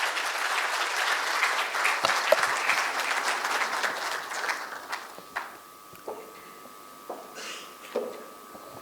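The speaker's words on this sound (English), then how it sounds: "So let's welcome him with a thunderous round of applause." An audience at a business conference applauds to welcome the chief guest, a full burst of clapping that thins after a few seconds into scattered individual claps before dying away.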